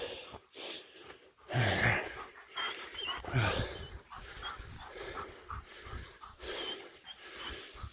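Dogs pant and snuffle during a jungle walk in the Dominican Republic, the breathy bursts coming close and loud in a few spells over rustling ground noise.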